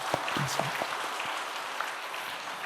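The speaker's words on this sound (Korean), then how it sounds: "우리 목사님께 한번 박수 한번 쳐드리겠습니다." A church congregation claps for the pastor during a Korean sermon, a soft, steady patter of applause heard from a distance with a faint voice early on.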